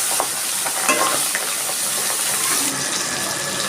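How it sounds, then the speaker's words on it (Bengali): Pabda fish pieces go into a small wok of hot mustard oil tempered with dried red chillies and cumin, giving a close, continuous hissing sizzle with scattered pops and crackles throughout. "আমি মাছগুলো কড়াইতে দিয়ে দিচ্ছি।"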